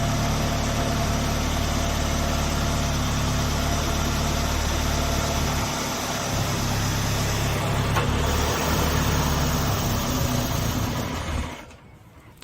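A Citroen BX 16 TRS petrol engine idles with a steady, rough low rumble and vibration close by, then abruptly stalls and cuts out near the end, leaving near silence.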